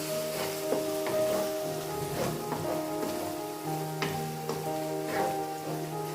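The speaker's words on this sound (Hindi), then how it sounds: "अब खुश्क मसालों के साथ हम इसको फ्राई करेंगे।" Keema frying in a pan with dry spices, including garam masala, for kachnar keema, giving a steady close sizzle with soft spoon scrapes and stirring clinks throughout, no talking.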